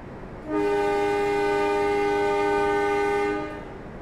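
A loud, sustained horn blast from the departing Pandalungan passenger train, lasting about three seconds, steady and close, then cutting off.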